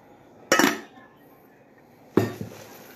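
An empty metal cooking pot is handled, giving two sharp clanking knocks about a second and a half apart, each ringing briefly before fading, close by with faint background noise.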